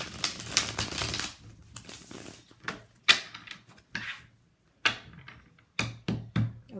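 Tarot cards being shuffled by hand in short papery riffling bursts, some quick and clustered and others separated by brief pauses, close and fairly quiet.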